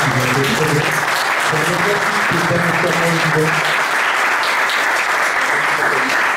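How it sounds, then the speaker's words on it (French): A meetup audience gives a loud, sustained round of applause for the speakers of a Symfony and Behat tech talk, thick clapping filling the whole stretch, with a brief voice or cheer early on. "Je vous demande de leur faire un tonnerre d'applaudissements"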